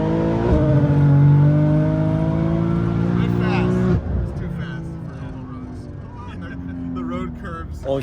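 A resurrected BMW M3 drag car accelerates hard, its engine note climbing loudly in pitch before a sharp gear change, then pulling again with a droning roar and wind noise heard from inside the car.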